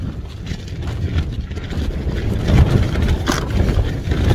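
Storm-force wind roars across an exposed wild camp near Crowden Tower, a loud, continuous buffeting rush that swells and gusts, with heavy low rumble against the microphone.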